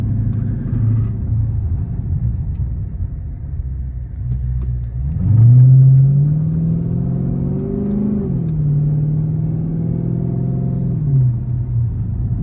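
Chrysler 300 SRT 392 V8 idling steadily with a deep low rumble, briefly revving louder midway before settling back to a smooth idle, heard close from inside the car with no talking.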